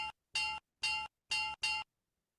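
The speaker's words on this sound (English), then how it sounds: "The process is repeated and the bell rings intermittently." An electric bell rings intermittently in five short, evenly spaced bursts, each a bright metallic ring separated by silence, heard close and clear with no talking.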